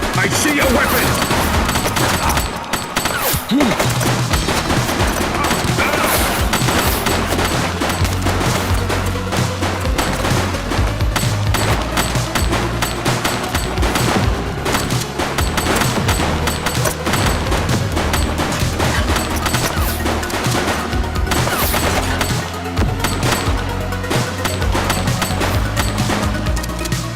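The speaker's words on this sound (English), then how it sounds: "She's shooting!" Sustained gunfire in The Precinct, a police game set in a GTA-like city: dense bursts of rapid shots and booms fill the whole stretch, loud and continuous, with a rising siren-like tone and shouted voices mixed underneath.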